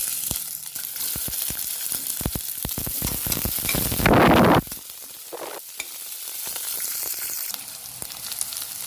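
Onion and whole spices, cinnamon, bay leaf, star anise and cloves, sizzle in hot oil for a mushroom biryani, a close, steady frying hiss broken by a loud burst of crackling and a few stirring clatters.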